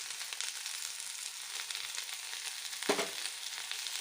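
Ginger, tomato, onion, curry leaves, coriander and tamarind frying gently for chutney, making a soft, steady sizzle with one brief clatter of a spoon partway through.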